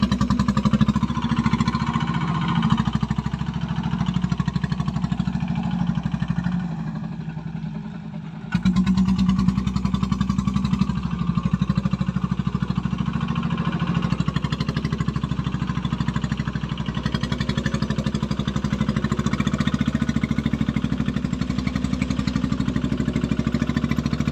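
A homemade heavy-load vehicle fitted with two gearboxes runs its engine steadily for over twenty seconds, a continuous mid-pitched motorized drone with a brief dip and then a slightly louder return.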